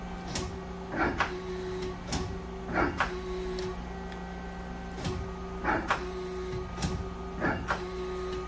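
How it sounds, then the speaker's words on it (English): A 2008 Mazak Quick Turn Nexus QTN 450II CNC lathe with Mazatrol Matrix control changes tools: a steady machine hum broken by several short whirring, clunking turret movements at regular intervals, heard close with no speech. "Do a tool change."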